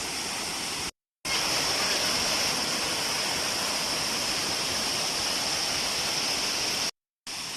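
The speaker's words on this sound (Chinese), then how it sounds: "咱们现在是上叠水瀑布，" A loud, roaring mountain waterfall fed by spring water from a primeval forest, a dense, steady rush heard up close without pause, with no voices over it.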